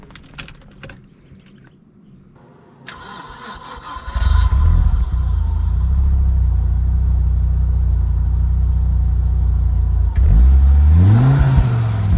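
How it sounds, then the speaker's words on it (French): An Audi RS2 with a 2-litre turbocharged five-cylinder engine: a few clicks and clunks, then the engine fires up loud and close, idles steadily, and revs climb sharply near the end. "que vous entendiez le son de cette voiture parce qu'il est impressionnant."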